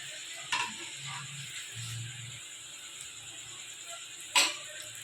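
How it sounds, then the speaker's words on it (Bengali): Palm-fruit luchi, a puffed flatbread, deep-frying in hot oil in a kadai, giving a steady bright sizzle with two sharp pops or crackles rising above it. "এইভাবে বন্ধুরা আমি তোমাকে লুচিগুলো ভেজে দেখাচ্ছি তোমাদেরকে"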